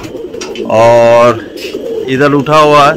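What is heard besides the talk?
pigeons cooing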